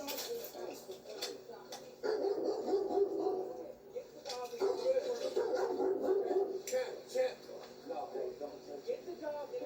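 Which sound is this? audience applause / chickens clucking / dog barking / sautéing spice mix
dog barking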